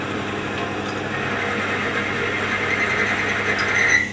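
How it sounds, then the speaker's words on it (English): A small motor runs under a weighted load, its bearing rubbing to make a steady, close whirring hum with a grinding friction edge that swells slightly toward the end, with no talking. "as it touches the big bearing, it creates the friction sound"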